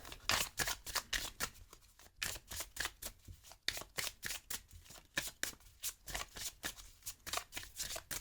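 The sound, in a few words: spreading oracle cards on a table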